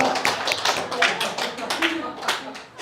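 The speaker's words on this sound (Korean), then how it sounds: "박수." A church congregation claps during a Sunday sermon, a short run of distinct hand claps at a moderate pace with voices faintly audible alongside.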